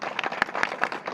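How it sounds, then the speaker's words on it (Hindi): Crowd clapping for a tehsildar of Khaniya tehsil at a Bhim Army protest gathering, a short burst of scattered, uneven hand claps with a few sharper slaps standing out. "एक बार दोनों हमारे खनिया थाना तहसील के तहसीलदार साहब को ताली बजा दो"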